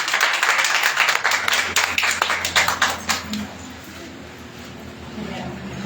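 Congregation clapping along at a Sunday church meeting, a dense run of rhythmic claps mixed with singing and voices that thins out after about three seconds, leaving a quieter room tone.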